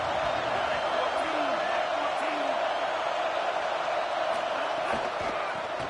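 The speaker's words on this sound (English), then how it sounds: "This crowd ready to make its presence known." Stadium crowd noise in an NCAA college football video game, Texas versus Miami, a dense continuous roar of the crowd with a commentator talking over it.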